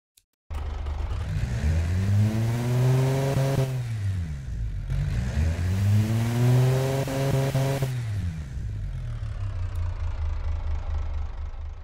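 A simulated car engine in the Automation game, built to about 440 horsepower for an amphibious truck, starts up and revs hard twice through long rising and falling sweeps, then settles to a steady idle, loud and close with no voices.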